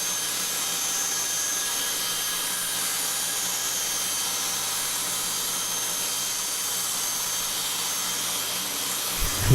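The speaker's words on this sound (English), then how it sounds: "So here's a table saw, a different one." Table saw recutting wooden back cover pieces for a dance pad replica, a loud steady whining drone running unbroken until it cuts off at the end.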